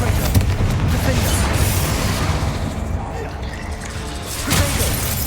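A Confringo spell explodes in the video game Hogwarts Legacy: loud, dense booming bursts with crackling debris, a strong hit at the start and another near the end, over a busy combat backdrop.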